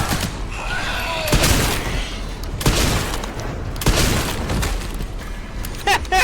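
Gunfire from the video game Resident Evil Requiem: several sharp, loud shots burst out at irregular intervals over a continuous rumbling game backdrop.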